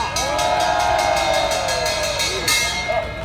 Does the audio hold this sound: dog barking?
no